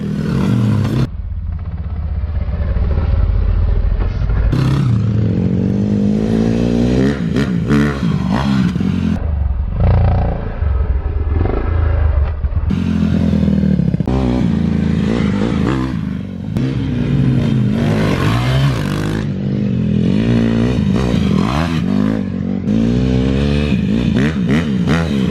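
A Honda CRF150F dirt bike engine revs loud and close, rising and falling through repeated throttle blips and sustained high-revving runs, with short dips between bursts and no talking.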